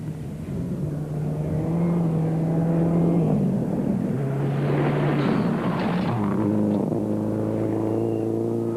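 A Subaru rally car races along a special stage at the Toyota Dealer Rally 2006, its engine droning and rising in pitch through the gears, fairly close and loud with no talk over it.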